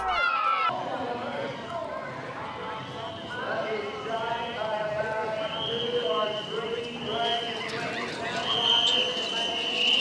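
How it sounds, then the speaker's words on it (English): Race horses pull two-person chuck wagon teams at top speed, their hooves drumming in a steady, fast, close gallop under a continuous roar from a large crowd, with a voice carrying over the scene. "2-person teams with race horses reaching top speeds"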